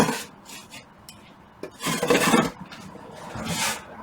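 A putty knife spreads and scrapes texture compound across a small camper backsplash, producing rasping strokes in irregular bursts, the longest two near the middle and end, close and clear with no talking.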